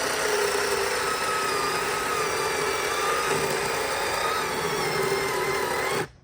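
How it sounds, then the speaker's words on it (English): A steady, loud electric chainsaw motor whine runs continuously for about six seconds while cutting wood, then cuts off abruptly at the end. "electric chainsaw"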